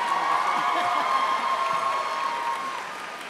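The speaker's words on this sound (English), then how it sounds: "I'm getting applause from you" An audience at a Comic-Con panel for the series Dexter applauds in a steady wash of clapping with a little cheering, fading out over the last second.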